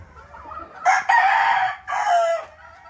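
Farmyard hens and chickens let out before feeding, a nearby rooster giving two loud drawn-out crows, with softer clucking between and before them; no talking.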